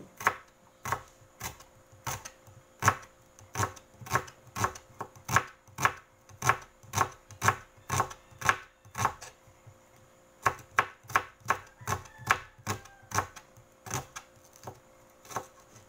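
A knife chops an onion on a board in steady, evenly spaced crisp strokes, close and clear, with a short pause partway through before the rhythmic cutting resumes.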